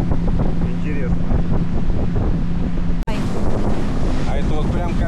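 Strong wind roars across open sea during a sailing trip, waves rising to around half a metre, with loud steady buffeting and rushing water throughout, one brief dropout midway, and faint voices beneath.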